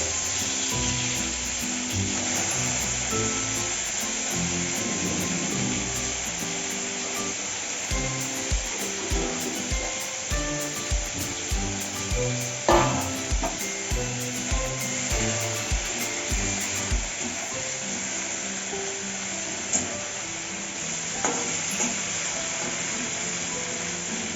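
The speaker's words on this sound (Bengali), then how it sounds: "চিংড়ি মাছটা ভেজে নেব। চিংড়ি মাছটা দিয়ে দিলাম।" Prawns frying in a pan, a continuous close hiss of sizzling oil with a run of rhythmic scraping strokes, likely a spatula working the pan, through the middle stretch.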